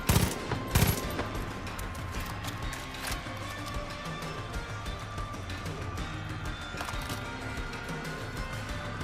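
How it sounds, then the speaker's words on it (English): Aircraft strafing run in Far Cry 5, a dense rattling stream of machine-gun fire after two heavy opening blasts, continuous and fairly loud over engine drone. "I'm gonna strafe these motherfuckers!"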